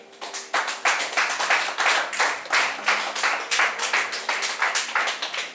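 A church congregation claps in unison to acclaim the Lord, a loud, steady rhythmic beat of roughly three claps per second that carries on alone without talk.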